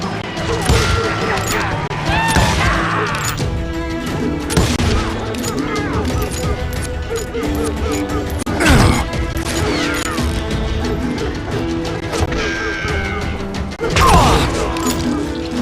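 Gunfire in the video game Call of Juarez: Gunslinger, with rapid repeated shots, crashes and impacts over a dense game soundtrack, and brief shouted voices from characters.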